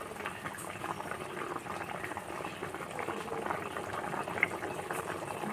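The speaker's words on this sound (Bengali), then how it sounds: "দেখুন বন্ধুরা, আমার ঝোলটা একদম ফুটে উঠেছে।" Hilsa and eggplant curry boils in a pan with a steady bubbling and gentle popping up close, a soft continuous simmer with one small sharp blip and no voices.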